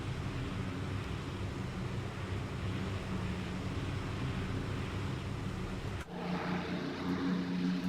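Propeller engines of a heavily loaded B-24 Liberator just after takeoff in the flight simulator MSFS 2024, a steady droning roar with a low throbbing rumble that shifts in tone near the end.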